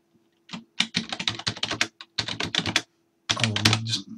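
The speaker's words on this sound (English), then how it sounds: "I'll just type in this is a test" A quick burst of close, crisp keystrokes on a computer keyboard in a quiet room, clattering in three short runs with brief pauses between them.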